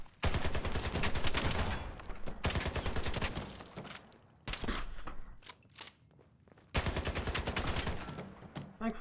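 Rifle gunfire in the modded video game Fallout 4: rapid, close bursts of shots in long volleys, broken by brief pauses and a few single cracks, with footsteps in between.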